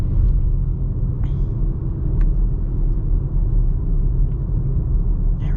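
A 2025 Audi SQ5 with a V6 engine pulls along at steady speed, its low, continuous drone and road rumble filling the cabin evenly throughout, with a few faint ticks above it.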